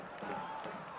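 Stadium crowd at a Las Vegas Lights FC versus Fresno FC soccer match, a brief swell of broad murmuring reaction with scattered shouts, steady and fairly near throughout.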